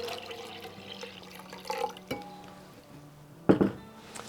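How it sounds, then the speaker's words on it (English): Fresh water running from a tap into a vase for a summer flower arrangement, a soft trickle and splash with a brief louder gush near the end. "start by filling up your vase with fresh water"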